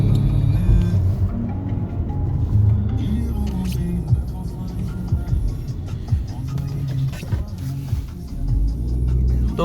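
A 2003 Volkswagen Golf 4 petrol car with 170,000 km, running on E85 ethanol, idles with a steady low engine rumble and throb close by, with faint background noise and no clear speech.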